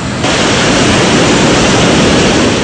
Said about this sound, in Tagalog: Nakakatakot ang napakalakas na ragasan ng tubig dito sa creek.